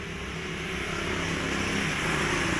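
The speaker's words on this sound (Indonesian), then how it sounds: "Ini dengan gejala suaranya kasar banget, suaranya kemeratak banget." Honda Vario Techno scooter with a rough, rattling CVT final drive, running as a steady, dense mechanical drone with a gritty rattle throughout, close and fairly loud with no voices.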